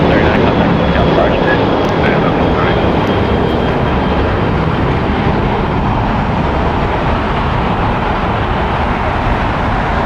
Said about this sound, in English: Southwest Airlines flight 639 going to Nashville, Tennessee. It's a Boeing 737-700.